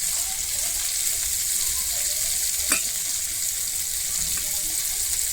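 Crispy prawns fry in a pan with a steady, even hiss of sizzling oil that holds at one level throughout, with a single faint clink partway through and no speech.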